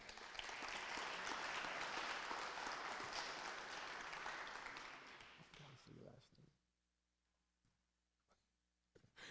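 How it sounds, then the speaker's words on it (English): An audience at a school all-city winter sports awards ceremony applauds an award winner: a loud, dense round of clapping lasting about six seconds, then tapering off into near silence with a few stray sounds. "Let's give her a great round of applause, Anna."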